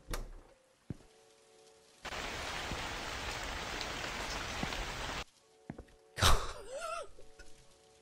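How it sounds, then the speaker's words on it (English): Heavy rain in a Japanese horror convenience-store game bursts in suddenly as a loud, dense hiss, holds for about three seconds, then cuts off. A sharp knock follows soon after. "Some loud rain."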